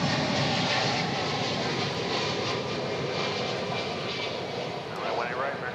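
An airliner landing on runway 18 right at DFW Airport roars steadily from a distance, a broad engine rush heard outdoors with voices talking over it.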